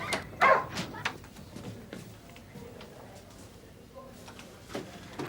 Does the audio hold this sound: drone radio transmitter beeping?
no